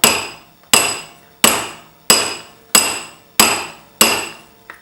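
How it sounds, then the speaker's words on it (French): A metal ring is struck on a mandrel with a hammer to enlarge it: seven sharp, ringing metallic blows land at an even pace, each decaying briefly before the next, close and loud with no talking. "c'est en utilisant le vrai marteau"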